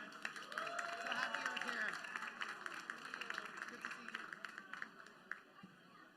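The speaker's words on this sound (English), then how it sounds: "Huge round of applause for Nina." An audience at an AI After Dark event applauds a speaker being introduced on stage. The claps fade from a brief burst into scattered taps, with voices around them.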